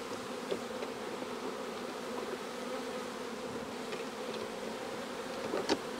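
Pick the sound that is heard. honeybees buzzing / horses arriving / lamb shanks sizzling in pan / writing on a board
honeybees buzzing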